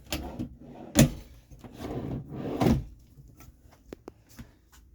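Drawers in a 2018 Thor Freedom Elite RV slide open and shut several times, giving sharp wooden knocks and thuds with soft rolling glides between them, close by and fairly quiet, with no voices.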